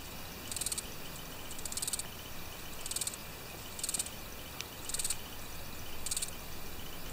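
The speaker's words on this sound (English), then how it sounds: "That's how grasshoppers chirp." Rhythmic bursts of high, buzzy insect chirping repeat about once a second over a quiet outdoor background.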